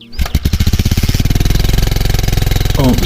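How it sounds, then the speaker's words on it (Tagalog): A motorcycle engine cranks and catches, then settles into a loud, rapid, even idle chug close by, with a brief voice near the end. "I-start ko muna yung motor."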